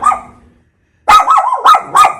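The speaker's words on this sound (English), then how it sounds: "Great guard dogs here." Dogs bark in several loud, close bursts, with a brief quiet gap before a run of three or four sharp barks.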